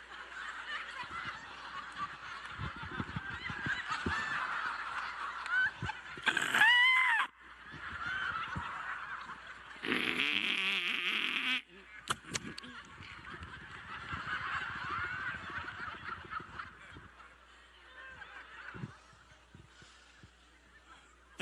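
A man imitates a cockatoo, giving loud squawking honks and shrieks in bursts, broken by snickering laughter and chatter from others nearby.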